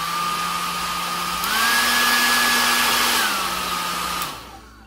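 A Pingo compact palm-size dual-voltage hair dryer runs close by with a steady whirring blow, its pitch stepping up partway through as the speed rises, then dropping back before it cuts off near the end.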